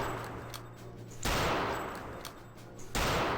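Gunfire rings out in the video game Return to Castle Wolfenstein, with two bursts of loud automatic fire, separated by a short pause, over quieter game background.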